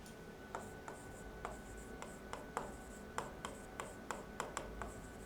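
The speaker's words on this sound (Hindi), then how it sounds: "यहाँ पे हम लोग लिखेंगे सबसे पहले न्यूट्रिशन" Marker or chalk writing notes on a classroom board, a series of short, crisp strokes and taps in an irregular rhythm over a low room hum, moderately close, with no one speaking.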